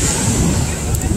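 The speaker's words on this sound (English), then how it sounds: "See the waves?" Ocean waves washing up on a beach, a steady close rush of surf mixed with strong wind buffeting the microphone, brief and continuous.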